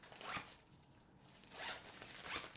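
The zipper on a fabric packing cube is pulled open in quick, close strokes, with a pause between zips and no talking.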